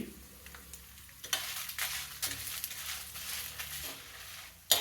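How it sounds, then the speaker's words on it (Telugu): About ten dried red chillies frying in a pan for a banana flower chutney, heard as a quiet sizzle with repeated scraping stirs that grow busier midway, ending on a sharp clack. "పది వరకు ఎండుమిరపకాయలు వేస్తున్నాను"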